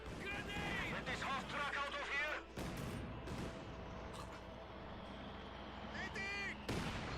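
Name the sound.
mortar artillery fire in the video game Company of Heroes 2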